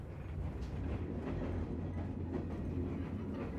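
A Rovos Rail luxury passenger train rumbles steadily along the rails in Africa, a continuous low rolling roar with faint rhythmic clatter, close and sustained throughout.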